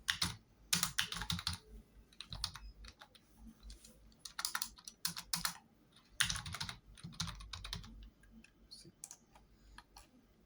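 Typing on a computer keyboard while writing a custom link entry, uneven bursts of sharp plastic key clicks with short pauses between flurries, close and clear, no voices.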